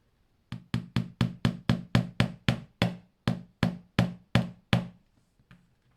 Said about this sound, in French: vous tapotez tout doucement jusqu'à ce que ça fasse un trou